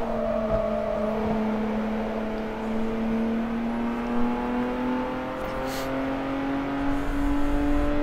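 Race car engine in Forza Motorsport 3 on a Spanish circuit: a steady, loud, close engine drone whose pitch climbs slowly and evenly, with no voices.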